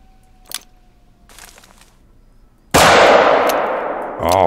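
A single loud rifle shot from a .44 hunting gun in theHunter: Call of the Wild cracks sharply and rolls into a long decaying echo, preceded by faint rustling and a few soft clicks.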